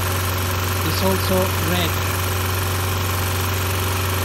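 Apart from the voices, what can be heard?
Mini Cooper R50 engine idling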